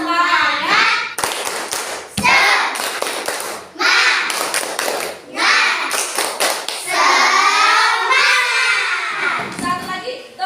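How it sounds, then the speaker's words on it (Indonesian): A group of children performs a rhythmic tepuk semangat clapping chant in a classroom, mixing patterned claps and taps with chanted voices. Bursts of clapping alternate with loud, close group vocals. "yuk kita tepuk semangat dulu"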